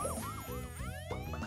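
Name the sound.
fire truck siren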